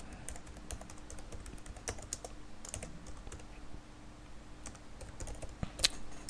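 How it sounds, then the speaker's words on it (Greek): Fingers tap out title text on a computer keyboard in quick, irregular bursts of soft clicks, close and fairly quiet, with no talking. "ας δαχτυλογραφήσουμε στο χώρο του Text Display αυτό που οι θεατές μας θέλουμε να βλέπουν σαν τίτλο στην παραγωγή μας"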